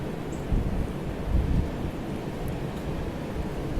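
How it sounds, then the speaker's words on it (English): Strong storm wind (Storm Riley) roars steadily outside a house, a broad continuous rumble with a couple of heavier gusts swelling and fading, heard from indoors with no talking. "Listen to that wind. It's supposed to get worse too."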